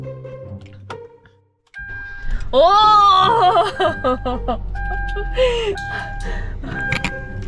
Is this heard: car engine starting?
yes